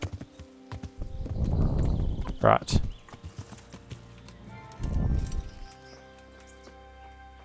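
Horse hooves clopping in the medieval game Kingdom Come: Deliverance as the horse heads downhill, with two bursts of hoof noise and a sharp clink between them, under a brief spoken word.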